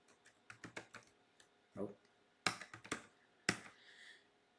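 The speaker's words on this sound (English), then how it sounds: "I'm typing this on a USB keyboard." Typing on a USB keyboard connected to a Baikal-M mini-ITX computer running Debian Linux: scattered, close key clicks in short bursts, with a few sharper louder taps and a brief soft rustle between them.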